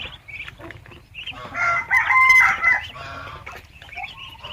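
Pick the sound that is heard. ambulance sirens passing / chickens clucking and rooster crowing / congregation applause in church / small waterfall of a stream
chickens clucking and rooster crowing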